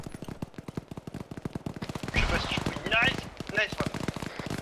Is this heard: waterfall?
no